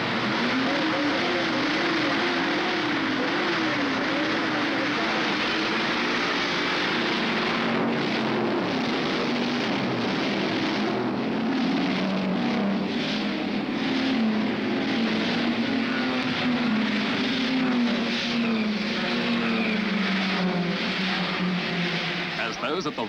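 A field of sixty race cars starts the 1971 Bathurst race, their engines roaring loud and sustained with rising and falling revs as the pack gets away, under continuous commentary.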